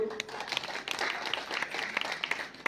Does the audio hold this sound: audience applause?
yes